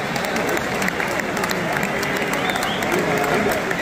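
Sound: stadium crowd applause at football match

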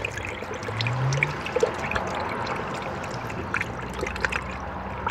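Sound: coolant pouring through spill-free funnel into Honda Civic

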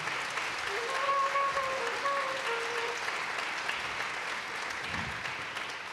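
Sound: audience applause

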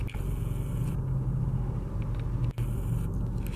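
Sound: car traffic in a street traffic jam

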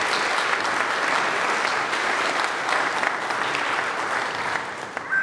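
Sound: applause

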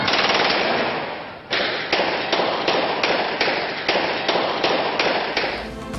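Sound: gunfire, aerial firing in news footage

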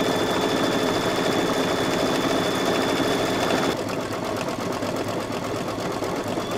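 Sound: embroidery machine stitching and shaking

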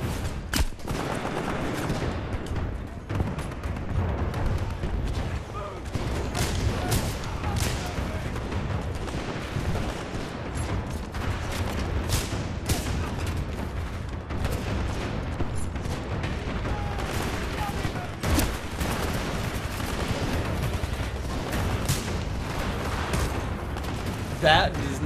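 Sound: gunfire in video game Titanfall 2

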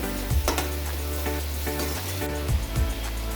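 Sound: onion and masala paste frying with turmeric and chili powder

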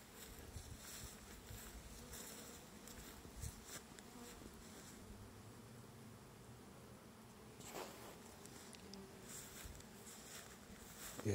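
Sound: honeybees buzzing at an apiary

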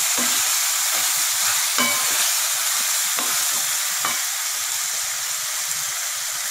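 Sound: boiled wheat pasta and vegetables sautéing in a pan

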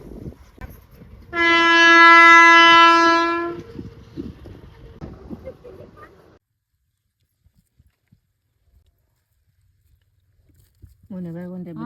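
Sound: train passing

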